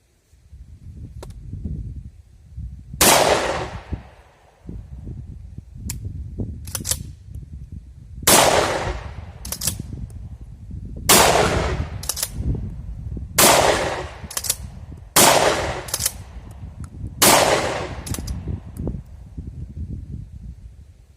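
An Armsan RS A2 semi-automatic shotgun fires low-weight 24-gram trap shells outdoors, with about nine sharp, loud reports spaced a second or two apart and handling noise in between.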